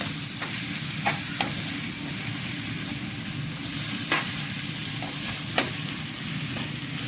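Onions with ginger-garlic paste frying and sizzling steadily in a pan while being stirred, with a few sharp scraping clacks of the spoon standing out over the constant hiss, for a soybean roast.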